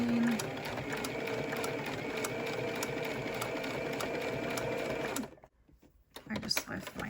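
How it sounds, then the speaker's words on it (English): A sewing machine stitches a seam on a cable-tie reinforced face mask with a steady mechanical whir and rapid needle ticking for about five seconds, then stops, followed by faint handling sounds. "just go ahead and sew on that seam"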